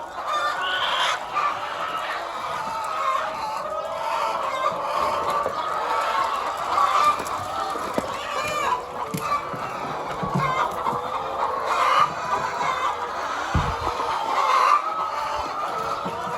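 Young Tinted hens clucking inside a chicken coop, a steady busy chorus of overlapping clucks and cackles at moderate distance, with occasional louder calls standing out and no talking.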